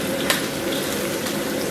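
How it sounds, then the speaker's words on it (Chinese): Ginger hits six- to seven-tenths-hot oil in an iron pot and is stir-fried, giving a constant close sizzle with sharp scrapes and clinks of the utensil against the pot. "咱们把这个姜给它下里边，先给它简单煸炒一下"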